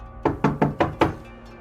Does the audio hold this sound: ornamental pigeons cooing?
no